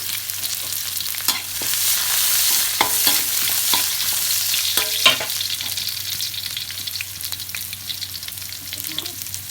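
Garlic sizzling and frying in hot oil in a home kitchen while making northern Thai shrimp paste chili dip, with a steady close crackle and a few louder stirring clatters.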